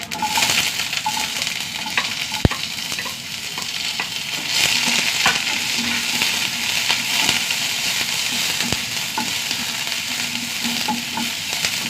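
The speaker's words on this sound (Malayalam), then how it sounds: "ഉള്ളിയൊന്ന് വഴണ്ട് വരട്ടെ." Sliced onion, curry leaves and green chili sauté in a pan with dried red chili and mustard seeds, giving a continuous close sizzle with occasional spatula scrapes and sharp clicks, no talking.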